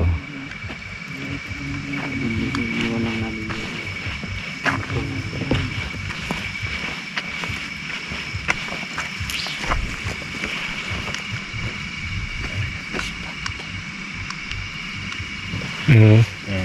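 A boat engine drones steadily throughout, with wind buffeting the microphone and a voice talking briefly over it.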